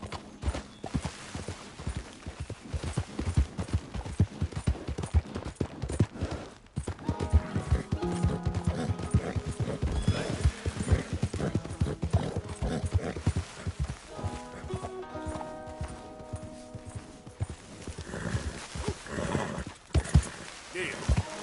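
A horse gallops in Red Dead Redemption 2, its hooves pounding in a fast, continuous rhythm, accompanied by tonal music and occasional voices.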